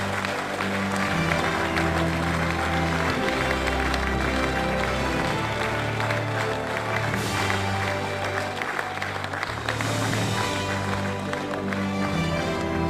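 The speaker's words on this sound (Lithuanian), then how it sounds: "Jūsų aplodismentai ir apdovanojimai." Dense, steady applause fills a Lithuanian February 16 award ceremony, with many hands clapping at once over a sustained musical tone throughout.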